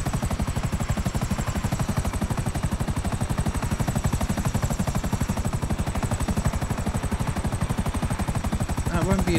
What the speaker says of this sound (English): Oh, we need that chopper,